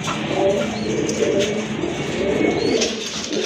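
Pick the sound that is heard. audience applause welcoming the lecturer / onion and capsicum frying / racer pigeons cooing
racer pigeons cooing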